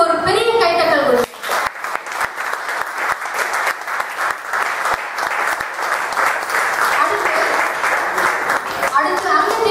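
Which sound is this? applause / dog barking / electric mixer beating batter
applause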